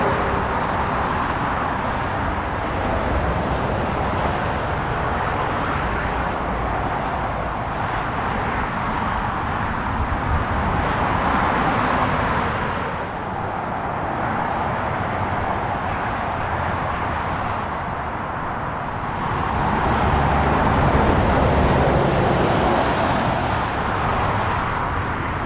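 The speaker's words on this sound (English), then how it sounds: "the traffic's just gonna be there." Heavy road traffic roars continuously and loudly from nearby, a dense broadband wash of passing vehicles that swells slightly toward the end, with no voices.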